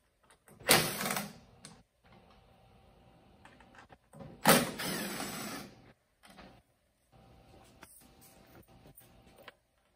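Small Phillips head screws being removed from a cleaning machine with a recovery tank: two loud bursts of near mechanical rattling and scraping, each lasting about a second, separated by quieter handling clicks and light tapping, with no talk.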